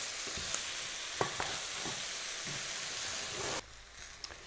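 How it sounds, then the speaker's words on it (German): Tomato paste for a gravy stirred and roasted in a pan: steady loud sizzling with occasional close scrapes and clinks of the spoon, the frying noise dropping sharply near the end. "Das wird jetzt verrührt und dann wird das Ganze noch einmal für circa 5 Minuten mit dem Tomatenmark zusammen geröstet."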